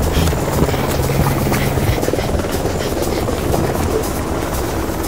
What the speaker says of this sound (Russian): Черт, полицейский вертолет!